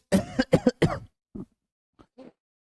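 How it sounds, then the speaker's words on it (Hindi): A person coughs three times in quick, harsh bursts, followed by a couple of quieter throat-clearing sounds, close and alone with no talk. "खांसी चल गई"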